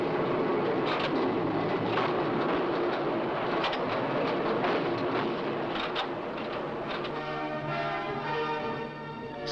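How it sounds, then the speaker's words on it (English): A coal mine train hauled by a diesel or electric locomotive rolls along steadily, its continuous rumble and clattering wheel noise broken by faint metallic ringing, with no voices. "trains hauled by diesel or electric locomotives,"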